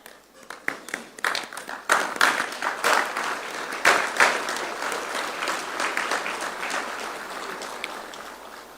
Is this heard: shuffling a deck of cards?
no